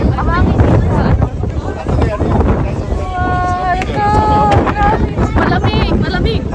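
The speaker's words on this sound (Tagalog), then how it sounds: "Mas grabing hangin. Mahangin dito sa ano." Strong wind gusting across a foggy, cold mountainside in Hakone, a steady loud rush of buffeting air into the microphone, with people talking throughout.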